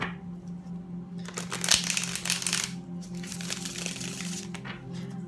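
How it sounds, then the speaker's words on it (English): Crystal ball reading cards being shuffled by hand, a quiet riffling burst that comes in two short rustling waves, close and soft, with no talking. "One last shuffle for Aries."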